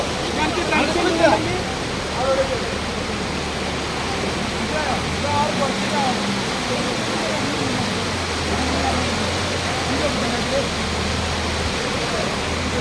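Floodwater rushes along a flooded road in a constant, loud roar of flowing water, with a voice faintly heard in the background.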